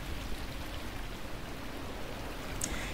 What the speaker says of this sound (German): weil es ja so stark regnet